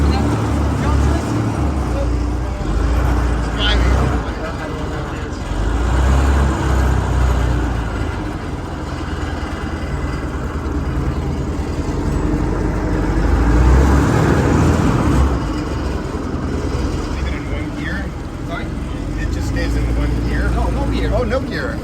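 Volkswagen Schwimmwagen amphibious car running in the Weser river, its engine a steady low rumble throughout, with people talking over it.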